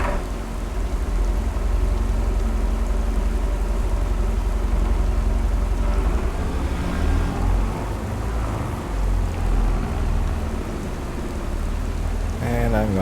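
Rain falls steadily on a farm, a loud continuous patter with deep rumbling underneath that swells and fades in places, no voices over it.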